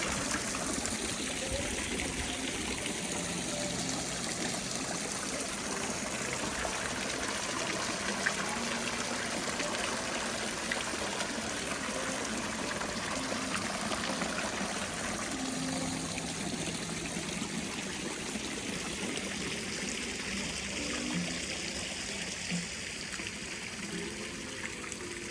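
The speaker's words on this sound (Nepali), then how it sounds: "call call call call call पानीको" A small water stream babbles and trickles steadily in a bonsai garden at Beartree Park in Sejong, Korea, a soft continuous splashing that holds even for the whole stretch with no voices.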